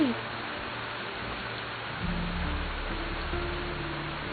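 Steady rain hisses as a dense, even wash of noise, with a low rumble joining partway through and no clear individual drops.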